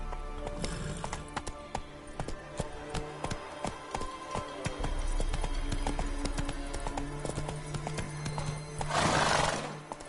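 Roach, Geralt's horse in The Witcher video game, clip-clops along in a steady hoofbeat rhythm before letting out a loud, close whinny near the end.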